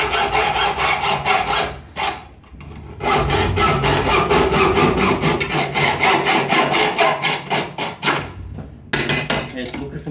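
A fuel filter casing is sawn open by hand in rapid, rhythmic rasping strokes, loud and close, with a short pause partway through before the cutting resumes.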